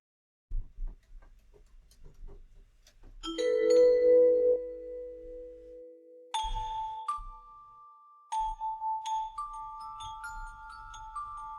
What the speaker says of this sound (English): I need the bells.